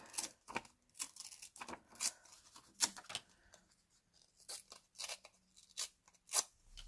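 Thick paper being torn by hand in short, quiet, ripping bursts that come one after another at an uneven pace, close by, with no speech.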